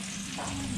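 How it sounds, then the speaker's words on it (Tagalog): Garlic and onion sauté in a hot pan, giving a brief, steady close sizzle and crackle of frying. "Saka natin igigisa guys, bawang at sibuyas."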